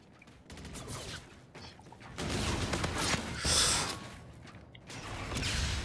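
Gun game match in Call of Duty Infinite Warfare, with busy in-game gunfire and mechanical weapon sounds rising and falling over a few seconds, fairly loud and continuous.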